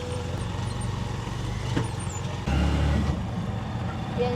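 A motorized tricycle engine at night, its steady low rumbling drone shifting to a heavier, louder chug partway through, with faint traffic around it.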